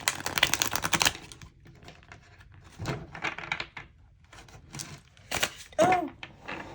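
A deck of cards is shuffled in short riffling bursts, crisp close flutters and slaps separated by quiet pauses, with a brief voice at the end.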